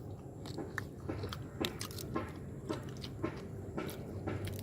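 Someone eats chicken with rice at close range, with irregular crunching bites and chewing sounds over a steady low background hum.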